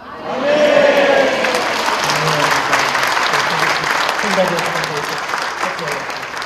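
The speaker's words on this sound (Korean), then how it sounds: "여러분들 모두 아멘하고 박수해서 하나님께 교회를 주신 하나님께 영광의 박수 돌려드리겠습니다" A church congregation gives sustained applause during an anniversary worship service, a broad, loud wash of many hands clapping that swells quickly and holds steady for several seconds, with voices mixed in.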